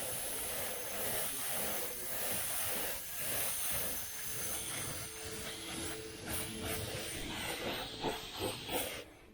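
Red paint sprays from a spray gun onto the masked mirrors of a 1976 El Camino, a soft continuous hiss sounding up close and fairly faint across the whole stretch, with slight swells and dips as the gun moves.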